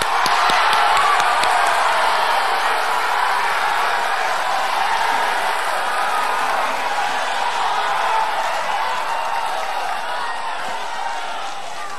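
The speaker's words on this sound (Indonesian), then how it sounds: "Silahkan tepuk tangan." Large audience applauding at a 2014 Indonesian presidential candidates' debate, a dense, steady wash of clapping and crowd noise that fills the hall and fades slightly toward the end.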